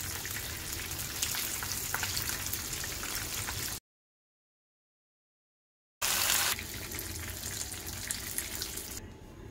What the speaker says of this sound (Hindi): दोनों तरफ से हमारी क्रिस्पी चिकन फ्राई हो गई है